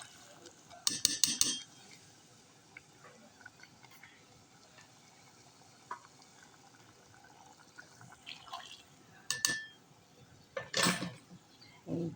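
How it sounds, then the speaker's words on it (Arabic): Utensils clink and scrape against a cooking pot in a home kitchen, in a few short bursts over a quiet background, with gaps between stirring strokes. "نديها تقليبة"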